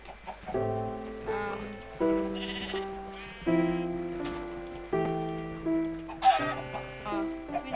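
Minecraft sheep bleat and chickens cluck in a modded game, the calls repeating in quick, loud, clean bursts with no talk over them.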